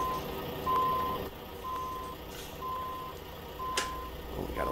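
A truck in American Truck Simulator backs up with evenly spaced reversing beeps, about four clear tones over a low engine idle, moderately quiet.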